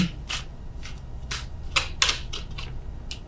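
Tarot cards are shuffled and drawn by hand, a series of crisp riffling flicks and slaps in irregular bursts, close and clear over a quiet background.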